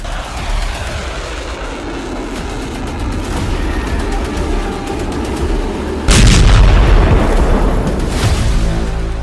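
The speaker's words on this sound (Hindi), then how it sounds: "40 जंगी जेट से तेहरान में 100 बम विस्फोट।" Loud, rumbling blasts and crackling booms roll on without pause, growing heavier and harsher partway through, like distant bombing from an air strike on Tehran.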